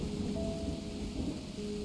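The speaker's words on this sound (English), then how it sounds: "Oh, I love the thunder sound." Thunder rumbling in the cozy room-building video game MakeRoom, a steady low roll with rain-like hiss and a faint tonal hum, moderately loud and without talk.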